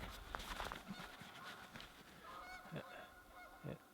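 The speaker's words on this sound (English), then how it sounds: "Canadian geese are back." Canada geese honk repeatedly in the distance, a scattered chorus of faint nasal calls over quiet outdoor background noise.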